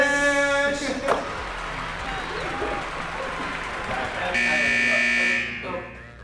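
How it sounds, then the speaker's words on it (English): A loud, sustained electronic buzzer at a Lakers basketball game sounds twice, first briefly and then for about two seconds, over crowd noise and a talking voice. "looks like that's the buzzer and we're out of time"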